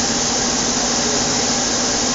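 A Daewoo Puma 400 CNC lathe with a Fanuc 18T control and a 15-inch chuck runs its spindle in high gear, giving a loud, steady, close broadband whir that holds constant throughout with no talking.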